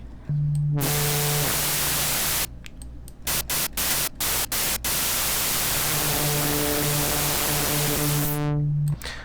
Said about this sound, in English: I took into consideration that you can use an operator as a white noise source